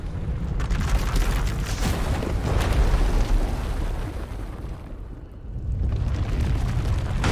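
A runaway Force power eruption in Star Wars: The Old Republic, inside an asylum: a sustained loud, rumbling roar with crackling bursts, easing briefly near the end before surging again, with no talk.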